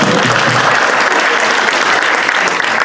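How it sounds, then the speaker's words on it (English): Steady audience applause from a crowd at a community service awards ceremony, loud and continuous throughout with no talking over it. "So give yourself a big round of applause."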